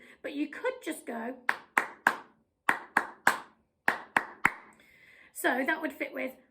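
Crisp, close hand claps tap out a short rhythmic pattern for a Hawaiian song, spaced in small groups between stretches of someone speaking before and after.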